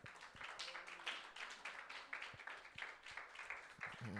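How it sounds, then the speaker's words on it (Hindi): A church congregation claps together at a Sunday service, a steady run of overlapping hand claps with no voices over them. "यीशु मसीह के लिए तालियां बजाएं"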